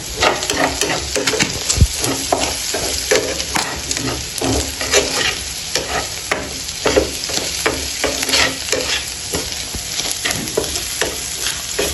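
Tuna sisig is stirred in a hot pan: a loud, continuous sizzle with repeated sharp scrapes and knocks of the spoon against the pan, close up and without talk.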